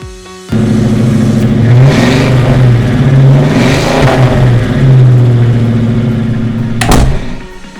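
A cartoon magic flying car's engine kicks in abruptly and revs with a smooth, humming tone that swells and dips. It runs loud and alone, then ends with a sharp whoosh.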